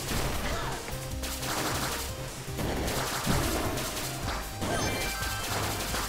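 Video game 20XX gunshots, a busy run of sharp bursts and crashes layered with rhythmic background music, loud and continuous throughout with no talking.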